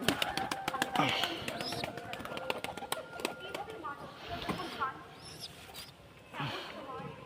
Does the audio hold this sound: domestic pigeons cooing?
yes